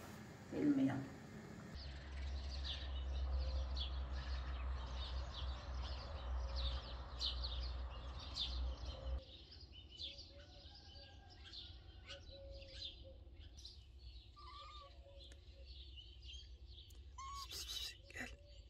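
A pet bird gives faint, short chirps and calls scattered over a steady background hum while a person talks nearby.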